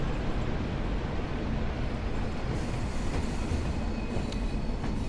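A train braking in Train Sim World 4 on the Blackpool branches: a steady, close rolling rumble with faint squeal-like tones and no talk over it.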